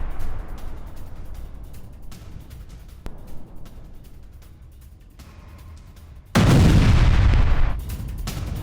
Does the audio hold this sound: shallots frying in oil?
no